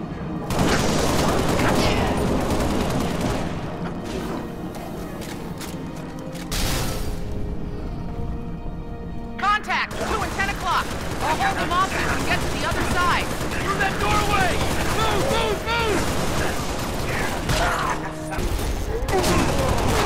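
Dense rapid gunfire and bursts from Halo Reach's co-op campaign mission New Alexandria, rattling loudly almost nonstop with a brief lull near the middle, mixed with voices talking over the shooting.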